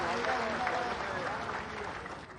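An outdoor crowd at a poetry recital in Jalore, India claps in a dense, sustained burst of applause that carries through to the end.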